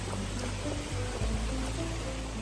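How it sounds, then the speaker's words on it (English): River water flowing inside Lost River Cave during a boat tour, a steady close rushing and gurgling wash with a low rumble underneath and no voices. "this is the river"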